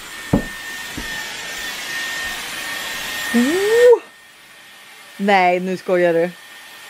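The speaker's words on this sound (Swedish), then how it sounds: "håller på att föna sitt hår" A hair dryer blows on someone's hair with a steady, fairly loud whir for about four seconds, rising briefly before it cuts off. Voices speak afterward.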